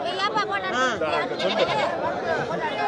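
Goats bleating at a busy goat market in Sempatti, repeated wavering cries from nearby animals mixed with constant crowd chatter and people talking.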